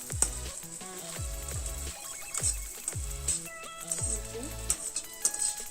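Vermicelli (semai) frying in a pan until reddish for upma, a steady crackling sizzle with faint stirring, heard beneath background music with a recurring bass line.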